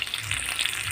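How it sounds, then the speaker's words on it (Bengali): Potato pieces fry in oil in a pan, giving a steady, dense sizzle heard close and alone for a brief moment. "এবার আমি এক ধারে ছকুচির মতো আলু ভেজে নিচ্ছি"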